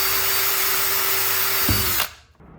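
A power drill runs loud and steady at a workbench during limo interior work, its motor whine holding constant before spinning down and cutting off near the end.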